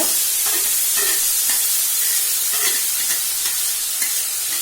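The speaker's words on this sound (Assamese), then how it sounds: "পিয়াজখিনি ভালদৰে ফ্ৰাই কৰি ল'ব লাগিব" Steady sizzling and crackling of onions frying in oil, with occasional stirring scrapes, close and continuous with no talking.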